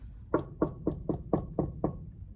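Seven firm knocks rap on a door in a steady, evenly spaced rhythm, close and distinct with no voices.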